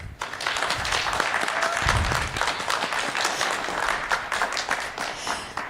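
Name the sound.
audience applause at a school spelling bee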